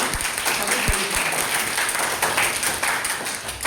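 An audience claps for a poet at a solo poetry recitation competition held in memory of Atal Bihari Vajpayee, steady applause filling the room with a few sharp, close claps standing out early on.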